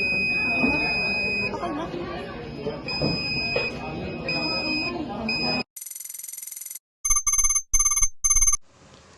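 A buzzer in a student robotics project, its output set by a photoresistor's light level, sounds loud and close after a stretch of talking: first one steady high tone, then three sharp pulsed bursts with short gaps between them.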